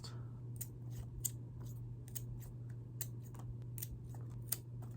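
Scissors snip through houseplant stems while taking cuttings: a series of crisp, sharp clicks and snips at an irregular pace, heard close over a steady low hum.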